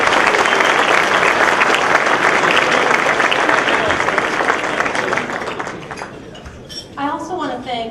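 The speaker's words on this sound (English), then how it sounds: "I just want to give them another round of applause." A conference audience gives a round of applause for the event staff at a State Policy Network awards gathering, full and loud at first, then thinning out as a voice begins speaking near the end.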